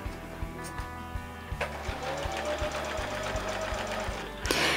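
Sewing machine running a plain straight stitch along the hem of denim jeans, sewn from the right side of the leg, with a steady rapid mechanical chatter and regular low thumps, close and continuous, a brief louder burst at the end.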